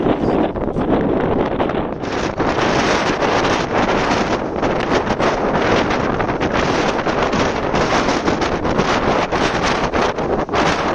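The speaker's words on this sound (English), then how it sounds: "It's really windy on this side here." Strong wind on a coastal cliff at Cabo da Roca, Portugal, buffets the microphone continuously, a loud roaring rush with gusty fluctuations and no pauses.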